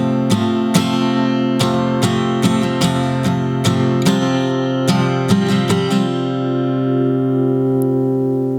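An acoustic guitar in an altered tuning picks the slow intro of a song, clear ringing chord strums and plucked notes at a gentle tempo, the last chord left to sustain and fade alone.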